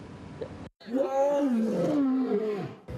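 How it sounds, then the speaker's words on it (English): A lion at a wildlife sanctuary lets out a loud, close, sustained roar that swells and groans for about two seconds after a brief gap. "The second the lions roared, the flurries fell"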